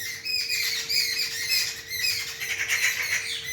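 Birds screech and squawk outdoors on a cold, windy day, a dense, continuous chorus of harsh overlapping calls close by, with a steady faint hum running underneath.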